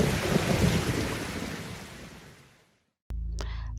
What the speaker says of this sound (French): Tout à coup, tout devient noir et une forte pluie commença à tomber aussitôt.